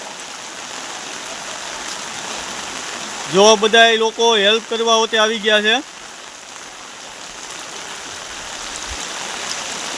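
Floodwater flows over the Gandhi bridge across a river in Dhari, making a steady, broad rushing sound throughout. Someone speaks briefly over it partway through.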